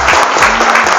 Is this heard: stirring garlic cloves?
no